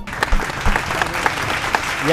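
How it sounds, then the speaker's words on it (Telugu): An audience claps at an outdoor quiz event in NTR Gardens, a burst of scattered hand claps heard close by with voices talking over it. "ఒకసారి గట్టిగా క్లాప్స్."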